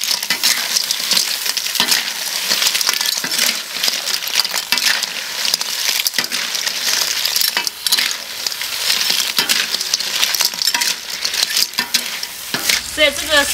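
A large batch of mixed seafood is stir-fried in a hot wok: loud, continuous sizzling with repeated scraping and tossing strokes of a spatula, close up, steady for several seconds with no talk.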